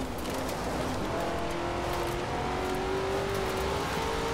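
A Chevrolet Corvette ZR-1 racing down a dusty slope in Forza Horizon 4, its engine droning steadily under load with a rising, strained pitch, loud and continuous with no speech.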